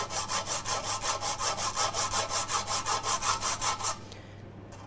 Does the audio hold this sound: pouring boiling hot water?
no